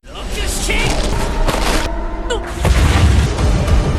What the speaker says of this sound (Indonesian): Di tengah Soshiro yang menghindari ledakan tersebut